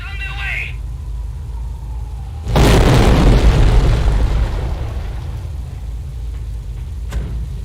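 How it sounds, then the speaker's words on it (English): Incendiary artillery rounds striking in the Company of Heroes video game, a heavy booming explosion that bursts in and rumbles on for several seconds, preceded by a brief voice and followed by a lighter crack. "Incendiary rounds on the way."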